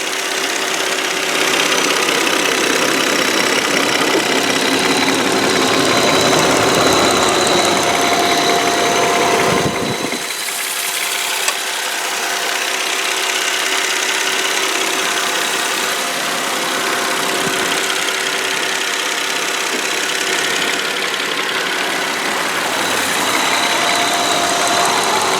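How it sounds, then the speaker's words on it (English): A 2002 Volvo S80 sedan with a 2.9 liter V6 idles under an open hood, a steady close rumble with an even hum and slight knocking texture that holds for the whole stretch, with a brief dip partway through. "I'm going to do is just be quiet and let you listen to the motor"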